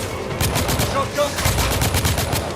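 Shotgun blasts from the video game The Order: 1886 on PS5 ring out in a rapid series of loud, close booms, one after another, with no talk over them.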